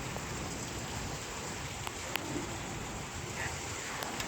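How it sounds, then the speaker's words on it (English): Steady rain falling outdoors, a dense even hiss of drops with a few sharper ticks, constant and fairly close throughout. "Here comes the rain."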